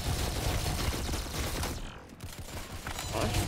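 Rapid gunfire in a Roblox shooter game, steady bursts of shots with a brief lull midway before the firing resumes, loud and close throughout.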